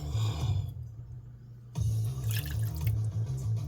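Noodle broth from a bowl of Liuzhou snail rice noodles pours off into a sink in two bursts of splashing liquid, separated by a short pause, close and fairly quiet.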